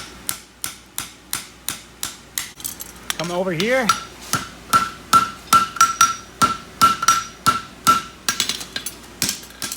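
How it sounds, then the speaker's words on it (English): Sharp metallic hammer blows ring on an anvil as a horseshoe is shaped, in a steady rhythm, close and loud, with a brief voice and a short whine partway through. "Just using the anvil and the hammer to tighten up behind the quarter."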